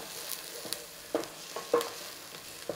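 Onions sauté in a pan for a homemade brown steak sauce, a soft, low sizzle under a few sharp scrapes and taps of a utensil against the pan, heard close with no talking.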